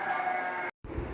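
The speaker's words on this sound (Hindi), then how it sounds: "ये कामूरी गबन बकरी है" A Kamori goat bleats at a livestock market, one loud close bleat that breaks off briefly, then resumes with a lower call.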